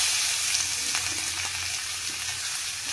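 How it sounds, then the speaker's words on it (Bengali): Tempering spices sizzle in hot oil for a Bengali fish dish, making a steady, dense, close hiss with faint crackles and no voices. "চলো এবার ফোড়ন দিই।"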